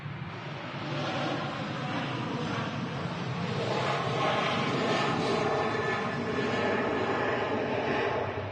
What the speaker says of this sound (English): Aircraft on the taxi at the moment.